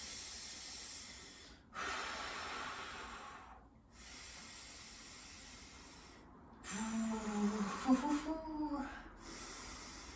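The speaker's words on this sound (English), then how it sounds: "3 deep breaths before I finish it." Deep breathing during a yoga-style workout, with long, slow, breathy inhales and exhales heard close up, each separated by a brief pause, and a shakier, more strained breath near the end.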